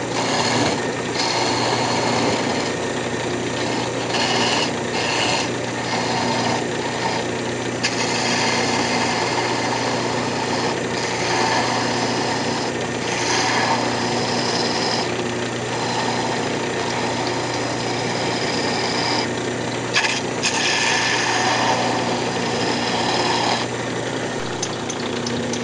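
A wood lathe spins a Christmas ornament blank, its motor humming steadily and close throughout, with faint scraping and brief tool contacts from the turning work and no talk.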